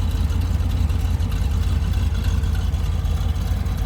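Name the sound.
1963 Chevy Corvette 327 V8 exhaust idling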